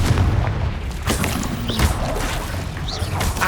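Fiery Confringo spell blasts in the video game Hogwarts Legacy, a low heavy boom followed by rumbling impacts and crackling debris, steady and fairly loud throughout the short stretch.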